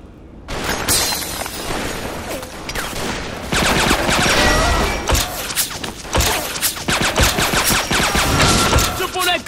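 Machine gun fire in the 50 Cent: Blood on the Sand video game: loud, dense bursts mixed with shattering, thuds and explosions, continuous and close, with intermittent shouted speech.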